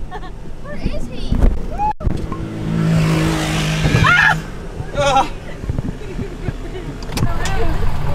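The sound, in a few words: four-wheel drive truck driving off-road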